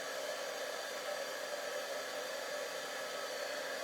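A heat embossing tool blows steadily as it heats embossing powder on a pop-up card, a constant, even airy whoosh with no break throughout.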